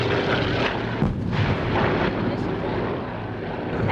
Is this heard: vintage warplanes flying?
yes